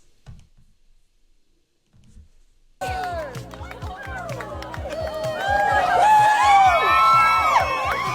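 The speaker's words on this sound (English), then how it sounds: "And y'all are cheering them on." A wedding audience cheers and whoops for a couple, a loud crowd roar with bright whistles and shouts that swells after near-silence and builds steadily, muffled chatter mixed in.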